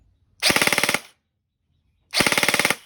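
Two rapid bursts of full-auto fire from a G&G CM16 Raider L2.0E airsoft rifle, each about half a second of evenly spaced sharp clicks, separated by a silent pause.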